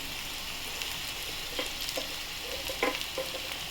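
Lightly fried potatoes sizzling in a pan with chili powder added, a constant hiss under a few scraping stirs and clinks, close by and with no speech.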